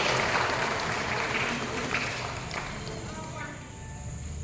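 A crowd applauding for the saints at an Ashadhi Vari service event, steady dense clapping that fills the whole stretch and eases slightly toward the end.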